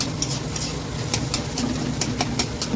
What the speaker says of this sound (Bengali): অনেক দিন পর তরকা খেতে ইচ্ছা করলো তাই আমি তরকা করছি